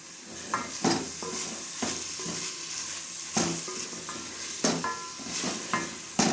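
Chinese pulao sizzles gently in a pan while a spatula stirs and scrapes it in repeated clinking strokes, close and fairly quiet, with no talking.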